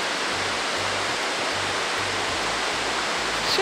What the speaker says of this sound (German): Das hier ist das Ziel, der Kisasa Waterfall.